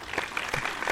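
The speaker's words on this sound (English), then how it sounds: "give us some applause" A short burst of clapping, steady and fairly close, with a faint background murmur.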